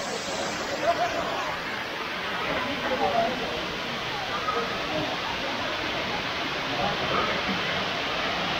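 The Sirah Kencong waterfall near a tea plantation in Blitar roars as a steady, broad rush of falling water, constant and close with no breaks.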